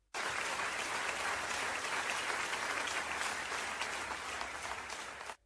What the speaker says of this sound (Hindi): आप सभी बधाई और तालियों के हकदार हैं।